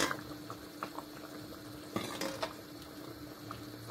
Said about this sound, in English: You allow the tomatoes to boil first after frying it like I did now.